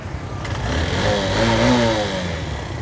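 A 16-year-old Suzuki GD 110 motorcycle engine runs smoothly nearby, a steady mid-pitched hum that swells slightly as if revved gently, then settles, with no voices.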